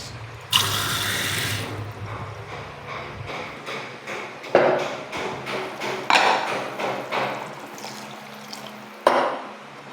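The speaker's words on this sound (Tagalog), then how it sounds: "Dagdagan ko lang ng konting tubig" Water being added from a tap or poured while cooking breakfast, with running, splashing bursts broken by several thumps and clatters of kitchen ware, close and fairly loud.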